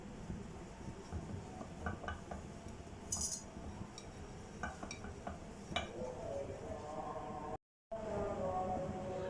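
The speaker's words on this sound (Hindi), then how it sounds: "इसको अच्छे से मिक्स कर लेंगे" A spoon stirs a chocolate mixture in a pan over a medium-low flame, with soft scraping and light clinks, quiet and intermittent.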